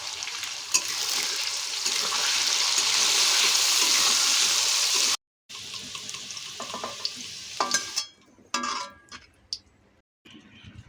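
Salted, turmeric-dusted ridge gourd frying in oil for a vegetarian moong dal, a loud dense sizzle that drops out abruptly, then returns with intermittent stirring clatter and scrapes.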